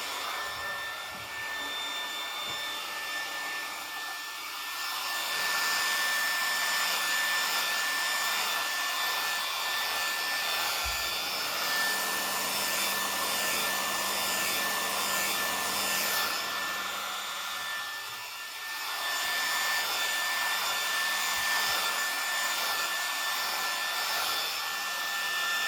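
A Remington HC6550 cordless vacuum hair clipper cuts hair with a steady, close motorized whine and suction hum, dipping briefly in loudness midway before running on.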